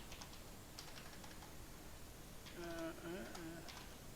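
Soft clicks of typing on a computer keyboard, a few quick keystrokes under faint background noise, with brief tonal beeps near the end.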